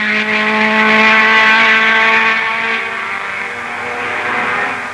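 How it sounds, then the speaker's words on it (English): A Ferrari race car at Paddock Bend in early-1960s motor racing, in wet conditions, a loud, close engine whine held at high revs, then easing slightly in pitch as it runs on. "it's Parks in the Ferrari, well in the lead for the last time round Paddock Bend"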